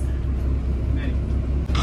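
A moving city bus, heard from the back seats: a low, continuous engine rumble and road noise steady throughout, with people talking over it.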